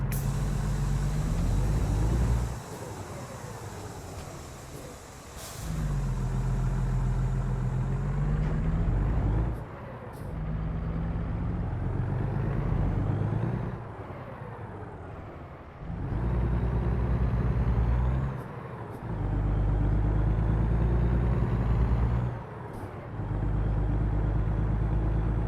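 A heavy truck engine droning and revving through repeated gear shifts in American Truck Simulator, loud and continuous, with rising and falling pitch as each gear is run up and then changed.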